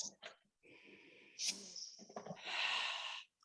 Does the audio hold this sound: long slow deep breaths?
yes